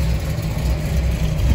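A 1969 Chevrolet Camaro Z11 pace car's big-block V8 idles steadily at a slightly raised idle, a continuous loud low rumble close by with no pauses.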